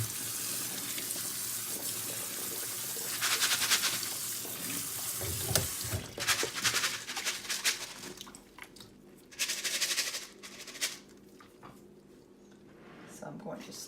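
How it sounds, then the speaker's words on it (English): Dried chickpeas get rinsed under a running kitchen tap, the water hissing steadily, then splashing and sloshing more unevenly as they are swirled, close and fairly quiet. "So I'm gonna go ahead and give this a quick rinse."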